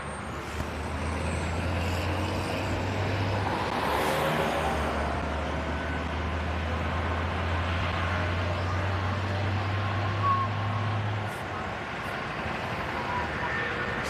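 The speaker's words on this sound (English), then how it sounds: "Decent traffic flow right now on the ramp, so that's good." Steady road traffic of trucks and cars on a highway ramp, a continuous rumbling roar with a low engine drone, heard from nearby and fairly loud.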